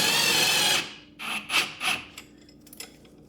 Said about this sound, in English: Just hold the 21 millimeter nut with a wrench